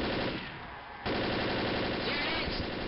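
Rapid automatic gunfire in the video game Left 4 Dead rattles continuously, dipping briefly then bursting back louder, dense and close.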